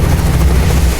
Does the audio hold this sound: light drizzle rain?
no